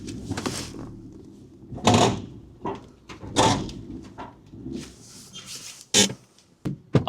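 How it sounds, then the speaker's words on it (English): On a Fiat 500, a car door handle is worked and the door clunks, giving a few sharp mechanical clicks and thuds spread over a few seconds. "Door handle."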